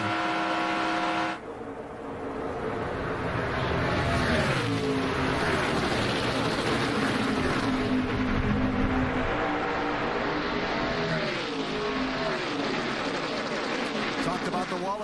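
Race cars in a tandem draft at the 2012 Aaron's 312, a loud sustained engine roar with rising and falling pitch sweeps as cars pass, continuous throughout with a brief dip near the start.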